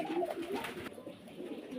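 A white running pigeon coos softly, a brief low burbling call up close, quiet and alone without any talk.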